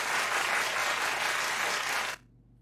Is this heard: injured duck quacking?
no